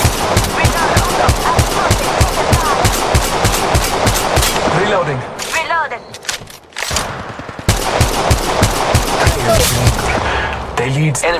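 Rapid automatic gunfire from the mobile battle-royale game Apex Legends Mobile, loud and nearly continuous bursts with a brief lull midway, mixed with game sounds and voice callouts.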